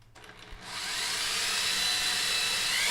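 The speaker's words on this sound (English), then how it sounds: "So with this countersink drill bit," A countersink drill bit bores screw holes during assembly of a replica ITG2 dance pad, a faint start giving way to a loud, steady whirring grind that holds after under a second.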